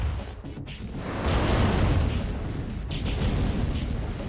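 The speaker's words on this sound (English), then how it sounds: "Ion cannon charging." Ion cannon strike from Command & Conquer Remastered: a deep, sustained rumbling explosion that swells to a loud roar midway and then rolls on with a broad, noisy crackle, with no talk over it.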